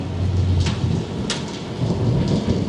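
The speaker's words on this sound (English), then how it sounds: "So the more I head into downtown, it's the more the rain keeps falling down" Steady rain falls over a downtown area during a thunderstorm, a dense continuous wash with low rumbling thunder swelling near the start and end, loud and close with no voices.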